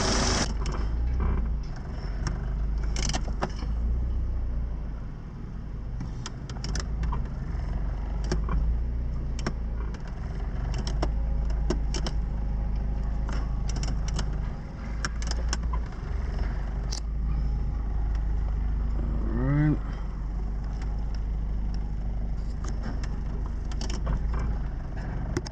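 A 1988 Honda Prelude with four-wheel steering drives along with a steady, loud engine and road drone throughout, broken by occasional clicks and rattles from inside the cabin.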